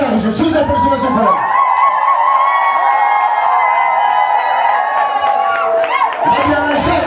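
Wedding guests at an official marriage ceremony break into loud, sustained applause and cheering, a dense crowd roar with shouted voices and whoops that holds steady for several seconds before tailing off.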